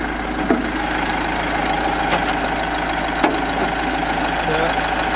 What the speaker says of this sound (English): It's a 3 litre engine.